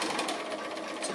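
A sewing machine runs continuously, top stitching a fabric pin cushion cover, with a fast, even mechanical whir and no pauses or voices.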